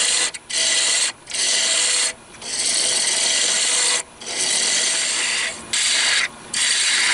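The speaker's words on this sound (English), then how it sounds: "Removing some material there with the roughing gouge." Roughing gouge cutting a spinning wood blank on a woodturning lathe, a loud continuous rasping scrape broken by several short pauses as the tool lifts off, close up with no talk.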